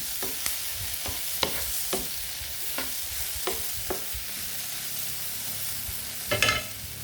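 Shrimp frying in a pan with pepper, giving a steady low sizzle broken by sharp clicks and taps of stirring, plus a louder scraping burst near the end.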